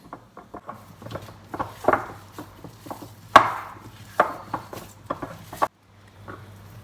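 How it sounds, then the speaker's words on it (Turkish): Almond cookie dough being stirred with honey and egg whites, giving a steady run of close, sharp taps and soft knocks of a utensil against the bowl, irregular in rhythm, with a faint low hum underneath and no talking. "bunların hepsini güzelce hamur kıvamı alıncaya kadar karıştıracağım"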